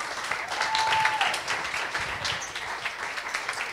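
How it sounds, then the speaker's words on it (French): Audience applause at a children's puzzle contest prize ceremony in Port-au-Prince, a steady, dense clapping from a room of people lasting throughout, with a brief tonal squeak early on. "On applaudit, s'il vous plaît."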